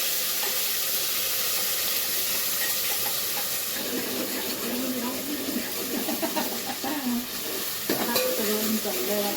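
Masala paste with ground roasted chana being sautéed in a pan, a steady frying hiss with soft stirring and scraping, moderately quiet.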